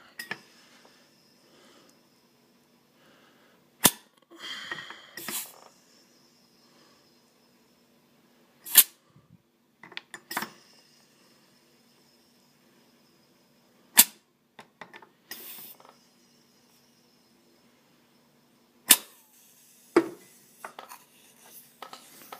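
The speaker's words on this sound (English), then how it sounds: "So, loading up these shells real quick." Shells are loaded into a toy MGL grenade launcher, giving a handful of sharp, separate plastic clicks and clacks spaced several seconds apart against a quiet room.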